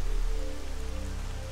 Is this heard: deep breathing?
no